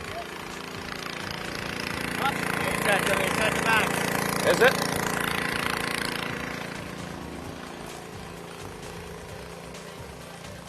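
The engine of a driveway sealcoating machine runs and is idled up, its steady drone swelling and then easing back, with a short spoken remark partway through.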